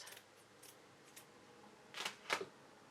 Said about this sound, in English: I need to cut this